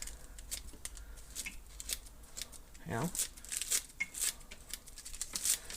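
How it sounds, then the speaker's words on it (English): Kitchen scissors snip rapidly through lettuce for a corn chip salad, a run of crisp close cuts and rustling leaves, with a person talking briefly. "So let's shred the lettuce."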